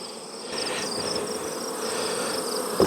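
A colony of honey bees buzzing in an apiary, a continuous steady drone of many wings at moderate loudness, with no one speaking.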